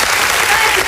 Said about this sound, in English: can we get a hand clap for Shantae, y'all?